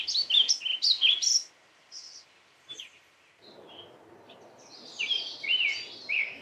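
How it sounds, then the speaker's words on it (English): A male summer tanager sings rich whistled phrases from tall cottonwoods, a bright sing-song melody in short bursts with pauses between, moderately loud against a quiet background. "Now we're hearing a sing-song melody of rich whistled phrases that's coming from the tallest cottonwoods."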